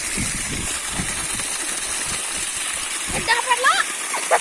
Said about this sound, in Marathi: एवढं कंटिन्यू पाणी पडायला बघा.